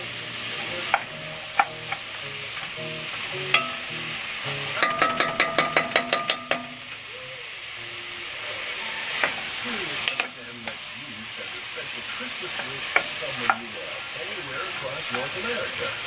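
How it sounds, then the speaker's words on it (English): Onions sizzle gently in a pan under steady hiss, with scattered utensil clinks and a burst of rapid rhythmic tapping midway; a voice talks quietly over parts of it. "cooking of the onions will be about 4 to 6 minutes"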